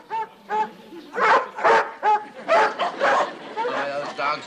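Several dogs barking close by in a lively, overlapping series of yaps and woofs, with a voice briefly present underneath.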